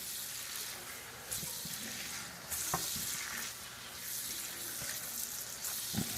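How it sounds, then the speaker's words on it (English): Marinated thin-cut flank steak stir frying in a hot pan for beef and broccoli, a steady loud sizzle with bursts of crackle and the scrape of stirring throughout. "Start stir frying."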